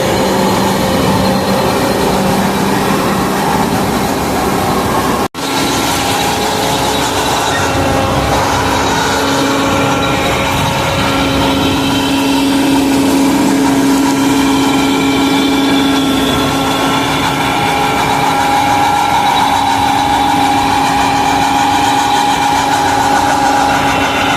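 A New Holland Workmaster 105 tractor pulling a maize harvesting machine runs continuously at close range, a loud, steady engine drone with a rattling, vibrating undertone and one brief drop partway through.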